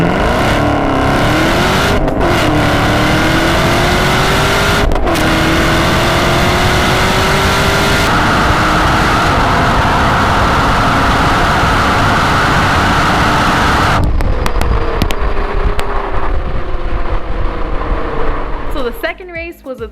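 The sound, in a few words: 2019 Camaro ZL1 and 2017 Nissan GT-R roll racing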